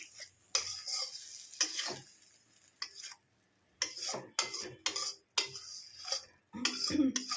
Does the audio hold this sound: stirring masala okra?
yes